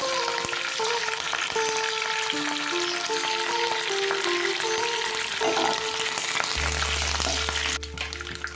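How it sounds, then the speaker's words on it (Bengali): Curry leaves and black mustard seeds sizzle and crackle in hot oil in a pan, a steady, close hiss heard under soft background music. A low hum joins near the end. "তেলের মধ্যে দিলেই চটচট করে ফাটবে"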